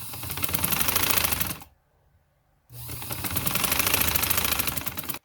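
A sewing machine stitches a neckline in two loud, steady runs of rapid needle chatter, split by a pause of about a second of near silence.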